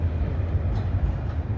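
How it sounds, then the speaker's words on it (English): A Valley Metro light rail train rolls past a station platform in South Phoenix, a loud continuous low rumble of wheels on track with a steady mechanical drone, close by and without voices. "I wonder if the train's going to stop here."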